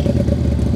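A Keeway V250FI Geronimo two-cylinder motorcycle with a crossover pipe linking its front and rear exhausts throbs loud and close in a short, gruff burst of engine pulses.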